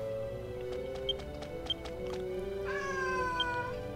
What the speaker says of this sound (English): Say good morning to the little kitty cat.